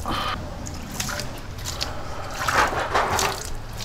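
Water splashing and trickling over a soaped motorcycle exhaust pipe during a rinse, a close, uneven wet spray with louder gushes toward the end.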